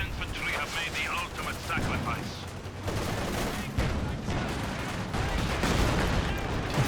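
Artillery barrage in Company of Heroes 2 on an icy battlefield: repeated heavy booms and crackling gunfire rolling through a continuous battle din, with a voice talking over it.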